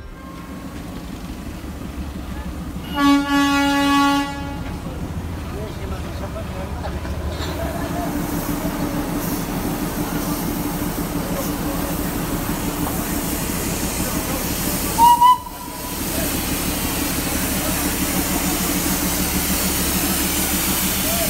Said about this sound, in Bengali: ইতিমধ্যেই আমাদের ট্রেনের ইঞ্জিন চলে এসেছে।